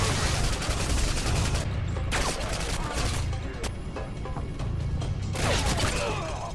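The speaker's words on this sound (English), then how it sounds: "we take out normal soldiers with ease. Here, open fire!" Rapid automatic gunfire rattles in bursts during a Call of Duty: Modern Warfare 2 firefight, loud and close, with clattering weapon mechanisms and brief gaps between volleys.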